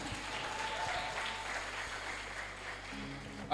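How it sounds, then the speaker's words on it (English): An audience at a TEDx event applauds after the last musical performer, a soft, steady wash of clapping heard from a distance with a low hum beneath and a faint voice near the end. "A round of applause for our last performer, please."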